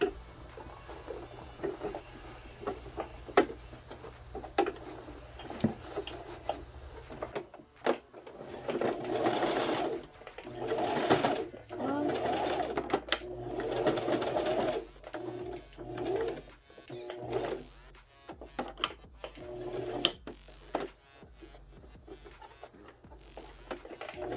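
A sewing machine stitching a zipper scrunchie, running in bursts of rapid mechanical whirring with pauses and short stops between runs, close up, with faint background sounds.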